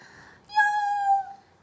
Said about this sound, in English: Mewed the kitty.